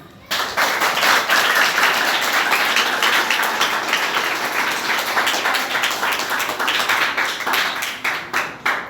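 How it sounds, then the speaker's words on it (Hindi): Students at a government senior secondary school meditation session in Gurugram break into vigorous, close clapping that starts suddenly and runs steadily for about eight seconds before tapering off. "तालियां बजाएं।"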